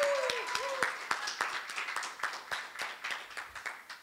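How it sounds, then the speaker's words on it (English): Applause at a competitive programming symposium: a series of separate sharp claps from a modest audience, fairly quiet and irregular, with a brief tonal sound early on. "So if you can give him one more round of applause"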